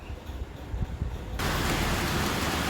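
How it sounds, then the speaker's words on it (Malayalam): Low rumbling gives way suddenly to a dense, loud wash of rain pouring steadily and close. "നല്ല മഴ പെയ്യുന്നുണ്ട്"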